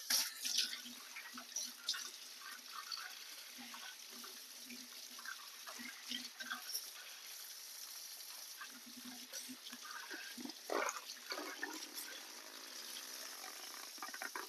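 Tap water runs steadily into a sink while jalapenos are washed, a faint continuous hiss with small splashes and clatters throughout.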